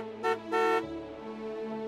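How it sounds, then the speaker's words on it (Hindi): A car horn blares two short honks close by, the second held a little longer than the first, followed by a low engine hum. "जितने जोर से मेरे ब्रो ने हॉर्न बजाया ना"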